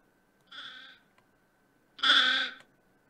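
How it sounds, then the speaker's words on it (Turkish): Two separate goat bleats from Ranch Simulator, a shorter one followed after a pause by a louder, longer one, clear and close over faint steady background hum. "Şimdi keçiler yürüyor."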